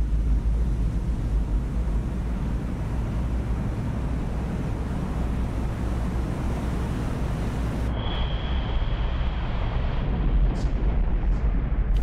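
A torpedo hitting its target in the submarine game Cold Waters, a long deep rumbling underwater explosion that roars steadily for several seconds before cutting to quiet, followed by a thin tone and a couple of faint pings.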